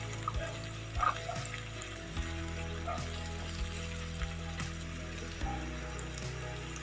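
Round gourd (tinda) pieces fry with garlic in a pan, giving a soft, steady sizzle under a constant low mechanical hum, with a couple of faint knocks as the pieces are stirred.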